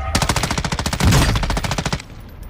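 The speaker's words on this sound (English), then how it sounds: "Oh, I'm getting a shot. I'm getting a shot." Sustained automatic gunfire from a machine gun in a video game, a rapid string of about twenty evenly spaced shots over two seconds, loud and close, with a heavier thump near the middle and no talking.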